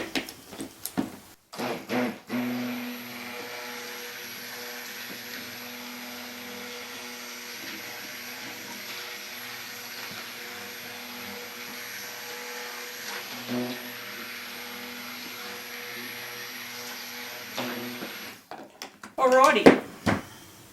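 A motorised mixer runs steadily for about sixteen seconds, whirring through coconut soap batter, then stops; a few short clatters follow at the end.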